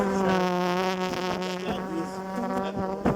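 Bees buzz at a hive top feeder box, a dense, continuous droning hum with steady pitch that stays close and loud throughout, without talk.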